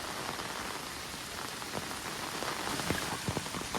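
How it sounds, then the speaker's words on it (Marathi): Torrential monsoon rain pours over a flooded river during fishing, a dense, steady hiss of drops hitting water and surfaces, with occasional louder splats and no talk. "तुफान पाऊस पडतोय"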